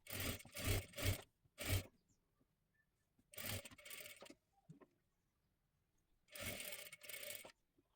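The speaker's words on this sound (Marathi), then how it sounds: "आता एकदम कडेकडेला पूर्ण शिलाई देऊन घ्या" A sewing machine stitching a blouse runs in short close bursts of rapid whirring, about four separate runs with quiet pauses between them, and no talk.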